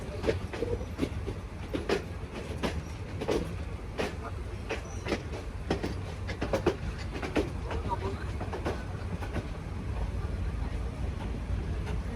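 A passenger train heading from Kishorganj toward Gouripur railway station in Bangladesh rumbles along steadily, with repeated rail clicks and clacks over a continuous low roar heard from inside the carriage.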